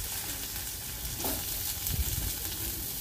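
Sliced onions dropped into hot oil already holding fried chillies, garlic and cumin for a tomato chutney, giving a steady close sizzle with a brief stir of the pan partway through.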